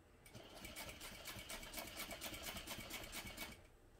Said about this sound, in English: now I'm just going to top stitch all of them down both sides